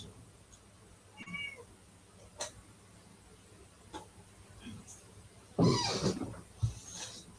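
A hungry mother cat meows indoors in a few short, separate calls, louder near the end, with quiet gaps and faint background noise between them.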